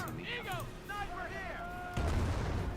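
A sniper rifle shot in the World War II strategy game Company of Heroes, a sudden booming blast at the end of the clip following someone talking over quieter game sounds.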